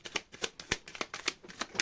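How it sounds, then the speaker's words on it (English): A deck of cards is shuffled in a quick series of crisp riffles and taps, about seven sharp bursts in under two seconds, close to the listener with no talking. "did say last shuffle"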